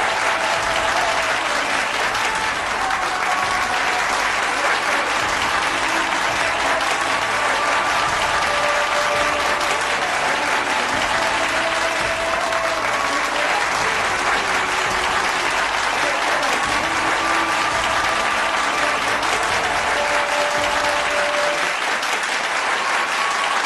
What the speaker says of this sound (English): A biggest round of applause for Hardik Pandya.